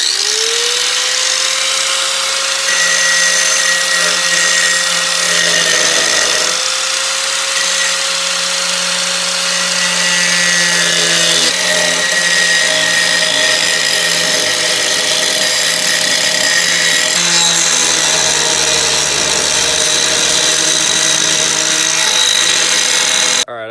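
A power tool grinds through the thin metal of an old OBS Ford bumper, giving a loud, steady, high-pitched motor whine that runs unbroken for the whole stretch, with slight shifts in pitch as it bites.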